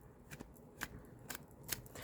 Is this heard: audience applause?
no